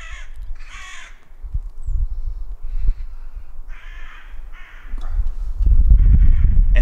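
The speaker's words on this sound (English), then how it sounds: "and then all of a sudden the birds yelling at me" Crows cawing loudly in a garden, several harsh calls in quick bursts, some close and some farther off, over low rumbling background noise that swells toward the end.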